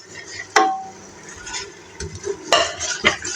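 Spices frying in ghee in a pan for a chickpea curry, with a few sharp spoon scrapes and clinks as they are stirred over a soft background sizzle.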